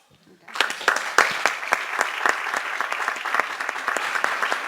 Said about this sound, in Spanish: Vamos a darles un aplauso bien fuerte.